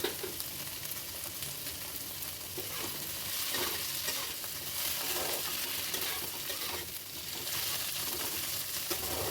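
Grated coconut being stirred in a frying pan for a sweet filling, with steady scraping and a soft continuous sizzle, close and fairly even throughout, no voices.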